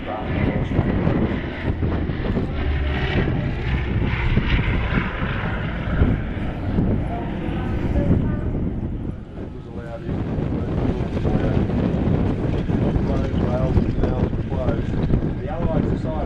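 A Lockheed Hudson, a Second World War aircraft, flies at the Avalon Airshow with a loud continuous engine drone and heavy wind buffeting, and a commentator talks over it.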